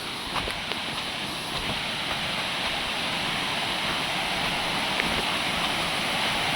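A waterfall at Paithalmala in Kannur, Kerala roars as a steady broadband rush of falling water, constant and fairly loud throughout.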